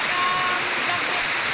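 Steady broadband rush of a waterfall deep in a forest, loud and close, a continuous unbroken roar of falling water with no other sounds standing out.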